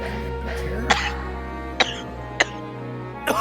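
A person coughs in several sharp, separate bursts over a low background hum, close and fairly loud.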